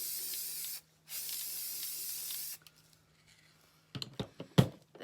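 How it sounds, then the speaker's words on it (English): An aerosol spray can hisses onto a Christmas ornament in two steady close bursts, one short and one longer with a brief gap between, followed by light clicks and handling noises. "you just take it and you shake it up and spray your ornament"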